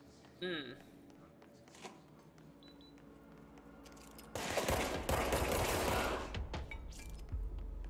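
Heavy rapid gunfire erupts midway in the video game Control, a loud continuous barrage of shots and impacts after quieter game ambience with scattered bleeps and thuds, with talk in the scene.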